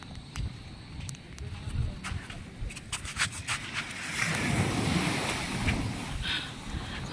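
Ocean surf washing in steadily with wind buffeting the microphone, swelling louder midway as a wave breaks nearby.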